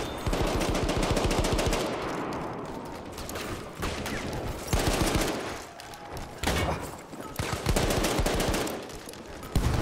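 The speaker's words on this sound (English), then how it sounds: "Just getting shot from all different angles here." Gunfire in the Battlefield 1 multiplayer video game on the Fort de Vaux map, with loud rapid machine-gun bursts and overlapping shots from several directions, briefly dropping out between volleys.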